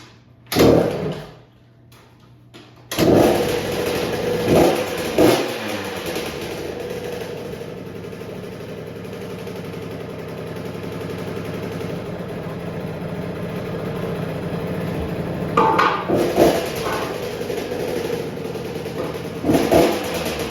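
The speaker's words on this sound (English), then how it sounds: "So this is gonna be the before sound, the stock exhaust" A Husqvarna TC50 kids' dirt bike with its stock exhaust buzzes in a garage, idling steadily with several short revs rising and falling, close and fairly loud throughout.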